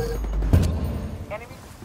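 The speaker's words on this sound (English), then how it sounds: "Flashbang's going in." A flashbang grenade goes off in the video game Ghost War: one sharp bang with a short low rumble, set against a faint voice and game ambience.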